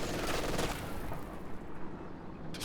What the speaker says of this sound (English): Stolen MG42 up there in the north.